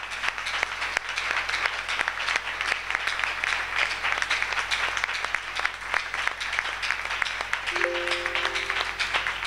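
A church congregation at a Thursday worship service applauds and cheers for the Lord, dense sustained clapping from many hands at close range, with a brief tonal cry rising above it near the end.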